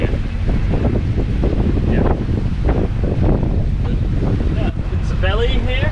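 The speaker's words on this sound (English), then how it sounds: "Because it's pretty gusty down here." Gusty wind buffeting a sailboat at a Pacific island anchorage, a loud roaring rush with surging gusts that blasts the microphone, with faint water and rigging sounds beneath.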